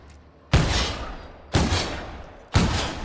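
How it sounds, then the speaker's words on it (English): A semi-automatic rifle in The Outer Worlds fires three single shots about a second apart, each a loud, close, booming crack that decays into a rumbling tail. "Shooting one by one. So it's semi-auto."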